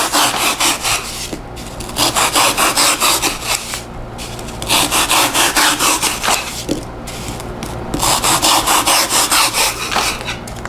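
A hacksaw trimming the edges of a piece, with loud, close, rhythmic back-and-forth strokes in several bursts separated by brief pauses.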